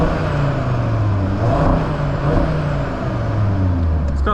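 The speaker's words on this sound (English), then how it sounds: "Let's do a few little revs in this parking garage here." A 2025 Volkswagen Golf R MK8.5 with mid pipes installed revs in a parking garage, its engine a loud, steady, echoing drone with rising and falling pitch as the throttle blips, heard alone without talk.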